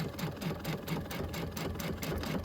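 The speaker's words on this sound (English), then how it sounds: "We're going to sew this part right here first." A sewing machine stitching a quilted Christmas project, a faint continuous rhythmic whir with a steady pulse of stitches throughout, no talk over it.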